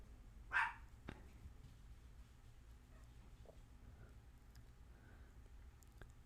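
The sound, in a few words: dogs barking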